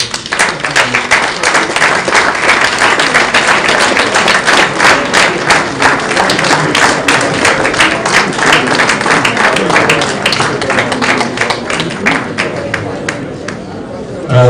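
A Nigerian Bar Association conference audience breaks into loud, sustained applause, dense rapid clapping from a crowd with murmuring chatter underneath, tapering off near the end.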